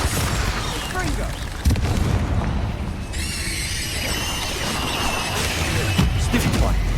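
Confringo and Bombarda spell blasts in a wizarding video game, a dense run of loud booming bursts and crackling impacts over continuous rumbling, with a bright fizzing shimmer partway through and spell names called out over the din.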